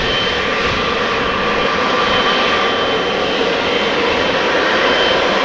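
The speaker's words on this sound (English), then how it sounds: "Turkish Airlines flight 1952 to Istanbul, 777-300 8 years old" A Turkish Airlines Boeing 777-300, eight years old, departs Amsterdam Schiphol for Istanbul with a loud, continuous engine roar and faint whining tones, steady and close, no talking heard.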